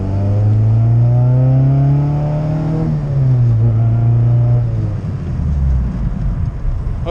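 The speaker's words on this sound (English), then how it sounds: "Hope you guys heard the exhaust a little bit there." A car fitted with a modified aftermarket exhaust accelerates in traffic, its loud droning engine note rising, dipping at a gear change, then climbing again, heard close and continuous.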